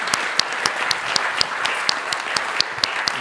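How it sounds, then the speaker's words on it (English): Conference audience applauding panelists at a data summit, a modest crowd clapping with a few sharp, distinct claps standing out at a regular rhythm over a softer background of hands. "A round of applause, please,"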